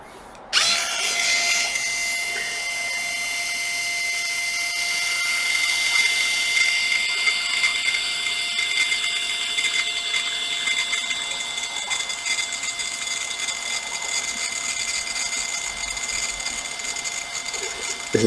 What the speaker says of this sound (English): so now to drill the holes